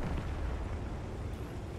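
A tank shell strikes in a tank video game featuring a German Panther, heard as a dense, low, rumbling boom that fills the whole moment without any talk.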